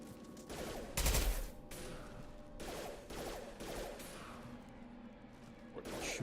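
Gunfire in the game Mass Effect 2, a loud burst at the start followed by repeated rattling volleys at moderate distance amid background game noise, no clear speech.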